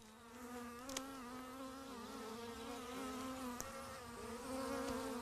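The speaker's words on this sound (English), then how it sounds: "The bees counterattack." Swarm of bees buzzing steadily in a counterattack, a continuous droning hum with wavering pitch, close and sustained throughout, with a couple of brief sharp ticks.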